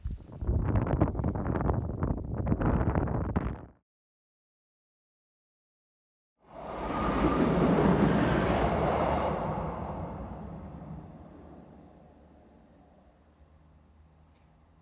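Loud train rumbling over a railway bridge overhead, starting abruptly after a burst of wind buffeting and a short silence, then roaring up close and slowly fading away.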